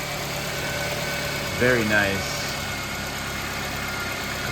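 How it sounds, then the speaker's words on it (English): Chevrolet HHR with a converted Ecotec engine idling steadily just after a cold start, a smooth, even hum with no ticking, while someone briefly speaks over it. "Here we go, turning the key. Listen to that purr. That's a cold start. No ticking at all."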